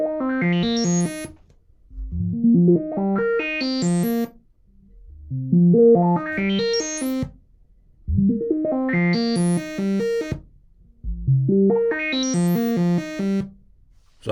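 An analog modular SP22 runs a sample and hold fed from an LFO, producing five repeating bursts of rapidly stepping, rising pitched tones separated by short silences.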